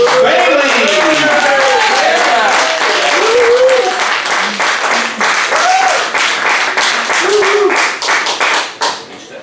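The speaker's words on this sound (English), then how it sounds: "Big round of applause, everybody" Loud applause and clapping from a comedy club crowd welcoming a stand-up comic, with scattered whoops and cheers, tapering off near the end.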